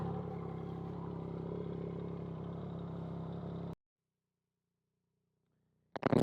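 A motorcycle fitted with a CS Racing exhaust idles with a steady low throb for several seconds, then cuts to silence before a loud burst returns at the end.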